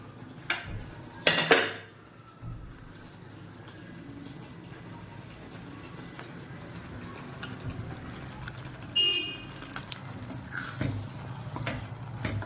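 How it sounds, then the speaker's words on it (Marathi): Eggs go into a thick spinach curry in a pan and are stirred through it, heard as a clatter of utensil against pan near the start and soft, quiet scraping and stirring after that. "आता आपण याच्यात घालतोय अंडी."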